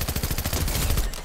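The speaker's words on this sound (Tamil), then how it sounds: "கிட்ட போய் ஷாட் கன் கொடுங்க" Rapid gunfire in the video game Fortnite, a close, loud burst of repeated cracks at a fast rhythm lasting about a second before it trails off.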